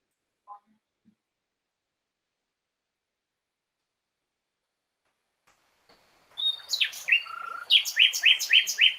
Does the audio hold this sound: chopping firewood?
no